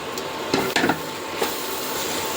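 Mushrooms fry in a pan with a steady sizzle, broken by a few close clattering stirs of a spoon against the pan.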